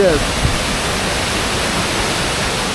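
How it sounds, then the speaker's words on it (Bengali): Rohini waterfall in monsoon, swollen and fast, roaring as a loud, dense, unbroken rush of falling water with no variation throughout. "এই ওয়াটারফলসটার নাম হচ্ছে রোহিণী ওয়াটারফলস।"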